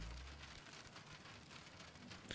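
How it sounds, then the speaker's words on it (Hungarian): Soft steady rain falls in the puzzle video game The Pedestrian, a faint continuous patter and hiss that stays even for a couple of seconds with no voices. "Jó, ez a kis esőhang."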